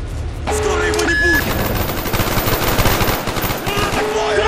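Rapid automatic gunfire from the video game Call of Duty Black Ops, bursts of shots rattling over game sound effects and tones, with combat voices speaking in German mixed in.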